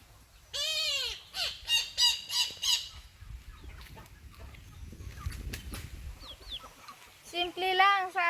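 A bird squawking while fighting a chicken near a hut, several loud harsh close squawks in quick succession, a quieter rustling scuffle in between, then another burst of squawks.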